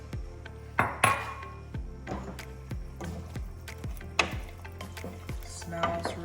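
Vegetables and eggplant cooking in a pan for a vegetarian green Thai curry, with a soft sizzle under repeated clinks and scrapes of a utensil stirring against the pan at an irregular pace.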